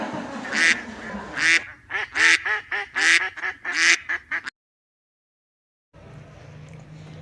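Children's voices imitate a duck's quack in a rapid, rhythmic series of nasal calls, close and lively, followed by a pause and then quieter background sound.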